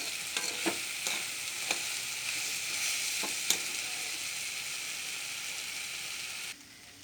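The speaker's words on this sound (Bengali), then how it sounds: "আর একটু শুকোবে ভাজা ভাজা হবে" Banana flower (mocha) frying in a pan with a steady, close sizzle and intermittent scraping clicks of stirring, ending abruptly in a quieter hiss.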